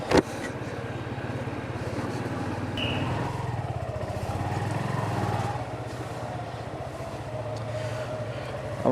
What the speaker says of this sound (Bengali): শীতের দিন বাইক চালাইতে ভালোই লাগে।